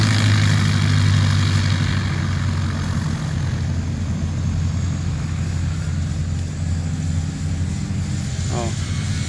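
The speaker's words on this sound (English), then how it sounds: "it's called the Stearman Fly-In. You see that plane's fixing to go." A Stearman biplane engine idles and rumbles at a fly-in before takeoff, loud, steady and low-pitched throughout, with a person speaking over it.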